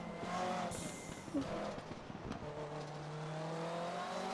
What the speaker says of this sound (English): Just listen to turbo.